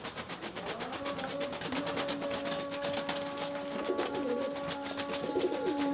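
Pigeons of the Input bread line breed coo softly in repeated low calls over a steady background hum, with no one talking.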